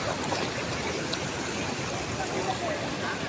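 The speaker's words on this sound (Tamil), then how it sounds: "தம்பி அங்கே ஒரு தண்ணி எப்படி விழுது பாரு" Water falls steadily as a waterfall or stream, a broad continuous rushing wash heard from moderate distance with faint voices underneath.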